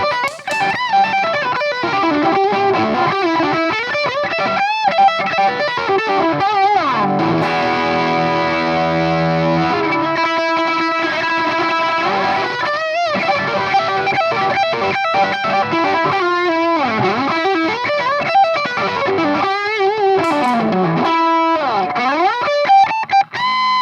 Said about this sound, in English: this one is a fuzz pedal combined with the distortion